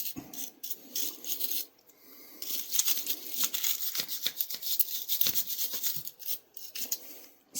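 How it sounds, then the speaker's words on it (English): A stainless steel wire brush scrubs pocket lint out of a Sears Craftsman camp and utility pocket knife, giving close, uneven bursts of scratchy rasping and bristly rubbing strokes with short pauses between them. "Stainless steel brush."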